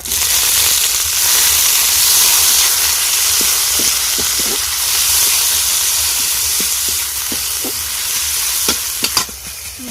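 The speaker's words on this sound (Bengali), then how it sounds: "হালকা বাদামি করে পেঁয়াজটাকে ভালো করে ভেজে নেব" Chopped onion frying in hot oil while making cauliflower-and-potato chops, a loud, steady sizzling hiss throughout with occasional clicks of stirring near the end.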